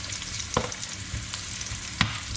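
Cumin seeds fry in hot oil in a pot for a Trinidadian-style chicken curry, giving a steady, close, gentle sizzle broken by a couple of sharp crackles and pops.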